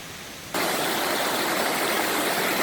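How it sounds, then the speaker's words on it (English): A river rumbles over a stony stretch with dugout banks, cutting in abruptly to a loud, close, steady rush of water that continues alone without any voices. "let you actually listen to the rumbling of the river, how peaceful it is"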